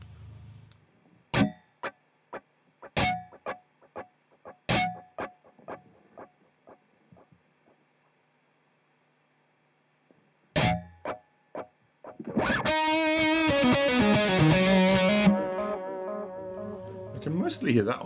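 Electric guitar played through an AmpliTube 5 Orange amp simulation with a unit in the effects loop: sharp picked stabs and a run of short plucked notes, a pause, then a sustained distorted chord ringing out with effect shimmer.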